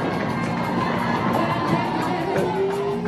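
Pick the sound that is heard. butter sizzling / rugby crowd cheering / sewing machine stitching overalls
rugby crowd cheering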